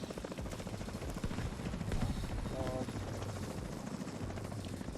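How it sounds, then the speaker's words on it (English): A helicopter arrives during a Dark Hours raid in a video game, its steady rotor thrum filling the mix alongside game noise, loud and continuous throughout. "Helicopter coming in."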